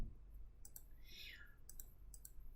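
Several sharp computer mouse clicks in a quiet room, a pair near the start and more toward the end, with a faint soft swishing sound between them.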